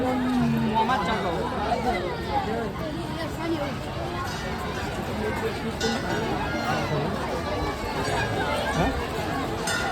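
Dense crowd of devotees at the Ramapir temple in Lalpur, a continuous babble of many overlapping voices close around, with shuffling and movement, steady and busy for the whole stretch.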